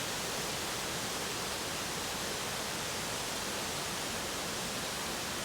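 Wisconsin waterfall rushing steadily outdoors, a faint, even broadband roar of falling water with no voices, unbroken throughout.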